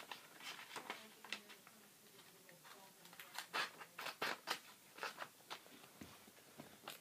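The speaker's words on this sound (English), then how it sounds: "I'm going to take my scissors and" Scissors cut out a traced piece of phone skin material, giving a run of faint, close, irregular snips and small clicks with no voices.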